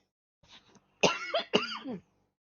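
Three dry coughs close to the mic, a short soft one followed by two louder, harsher bursts, with silence around them.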